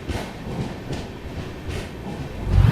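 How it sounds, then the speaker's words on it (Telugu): The Jayanti Janata Express taking the loop line past a goods train on the main line, its carriages giving a steady rolling rumble with faint periodic clatter and a louder low thump near the end. "సో అందుకోసము మా ట్రైన్ లూప్ లైన్ నుండి పాస్ అవుతున్నారు"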